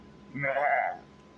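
A single goat bleat rises briefly, a faint, wavering call lasting under a second over low background hum in a horror story setting.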